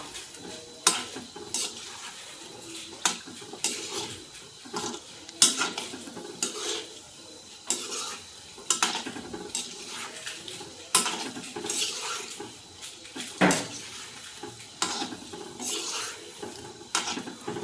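Kala jamun balls frying in oil over a low flame, with repeated scraping and stirring of a utensil in the pan producing sharp clinks and knocks at an uneven rhythm over a steady background hiss.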